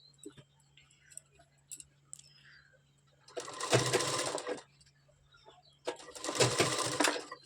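A sewing machine stitches a hem on a blouse sleeve patti in two rapid whirring bursts, separated by a short pause with faint ticks and handling noises, close up and with no talk.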